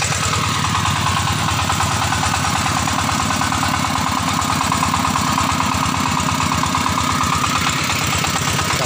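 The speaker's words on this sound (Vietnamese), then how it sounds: "đang nổ máy để vô." Motorcycle engine running steadily at close range on a rural coffee-farm road, a constant loud throbbing idle with dense vibration throughout, no talking.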